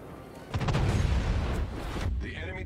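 A World of Warships warship lets off a heavy gun volley, a deep booming blast with a rolling rumble that fades over about two seconds, under faint game audio.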